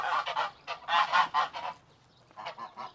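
Several geese honk in bursts at moderate distance, a cluster of calls, a brief lull, then softer honks resume.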